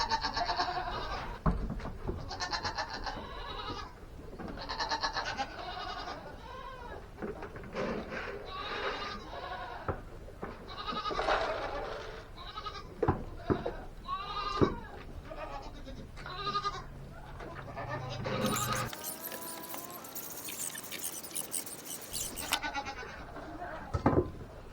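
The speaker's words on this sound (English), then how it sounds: "she is a good goat" A farm goat, an older milking doe, bleats repeatedly at close range in a busy barnyard, with other livestock noise around and a brief burst of broadband noise near the end.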